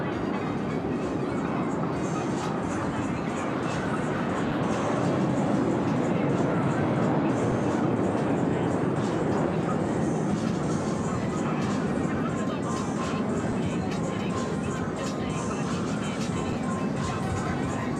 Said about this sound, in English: From behind the spectator area, Blue Angels 5 and 6 are approaching the show line at 400 miles per hour.